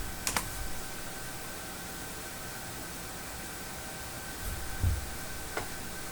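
Someone taps out a short command in PowerShell on a computer keyboard, a few faint scattered key clicks over a steady room hiss and electrical hum.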